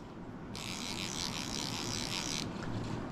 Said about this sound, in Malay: So ni adalah drag yang sebelum ni punya drag clicker yang aku dah pasang.